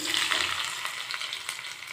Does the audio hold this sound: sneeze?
no